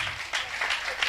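A church congregation keeps up continuous applause, a dense steady patter of many clapping hands filling the room.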